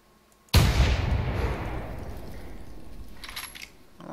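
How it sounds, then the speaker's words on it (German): A single loud hunting rifle shot in the video game theHunter cracks sharply, then echoes and rumbles away over several seconds. "Das muss ich einfach schießen."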